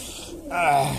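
A young pigeon being held open-beaked for cold medicine gives a short, close coo in the second half of the moment, following a brief quieter stretch.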